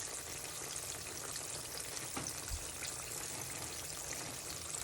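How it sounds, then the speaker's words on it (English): Green tomato slices frying in hot oil give a steady, dense sizzle with fine crackling throughout, close and even, with no talking. "then you just fry them a little longer to your liking"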